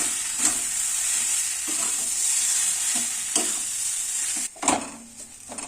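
A spiced bread pakoda filling with cumin powder and a little sugar stirred in a hot pan, loud sizzling with repeated scraping strokes of the spoon, a brief pause near the end, no talk.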